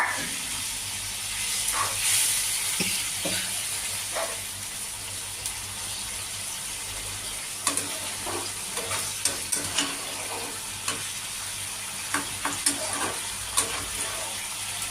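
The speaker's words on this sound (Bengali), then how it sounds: "এই জলের সাথে আমি মাছগুলো দিয়ে দেবো দিয়ে কিছুক্ষণ ফোটাবো" Amudi fish simmer in water in a pan for a spicy fish curry, a constant low hiss of steam and bubbling broken by scattered crackles and small pops that grow busier toward the end.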